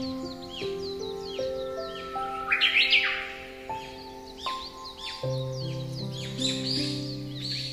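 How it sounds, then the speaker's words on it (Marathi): Sparrows chirp and tweet on a home balcony, a busy overlapping chorus of short high calls close by, with occasional louder bursts and a steady tonal hum beneath. "काही चिमण्या आहेत ज्या घर बनवण्यासाठी माझ्या बाल्कनीमध्ये जागा शोधतायत."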